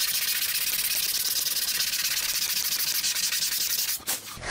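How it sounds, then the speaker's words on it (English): Hand sanding wood end grain with sandpaper, first 80 grit then 150, while shaping wide coves for box newel posts; a steady, close, continuous rasping scrub with no pauses that breaks off briefly near the end. "I use the 80 grit until the saw marks are out of there, then switch to the 150."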